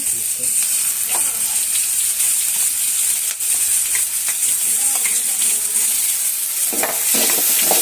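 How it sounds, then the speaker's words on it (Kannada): Chopped tomatoes frying in a pan for homemade sambar, a loud continuous sizzle with scattered crackles and stirring scrapes throughout. "ಅದಕ್ಕೆ ಕಟ್ ಮಾಡಿ ಇಟ್ಕೊಂಡಿರೋ ಟೊಮೆಟೊ ಹಾಕ್ತಾ ಇದ್ದೀನಿ"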